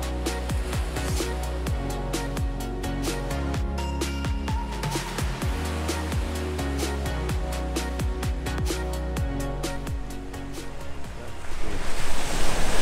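Ocean surf at Arashi Beach in Aruba rolls in a continuous wash with a broad rush of breaking water and wind buffeting the microphone, growing louder toward the end, with no voices.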